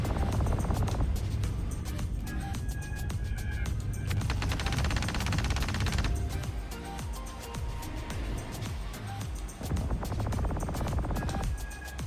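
Ship guns in the Avenger Titan game craft fire in dense, continuous bursts of loud gunfire, with a steady rattling barrage mixed with engine rumble running through the whole stretch.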